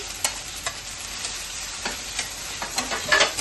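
Chopped tomato goes into a pan of sizzling onion, garlic and ginger paste, giving a constant close hiss with light stirring scrapes and small pops, no talking.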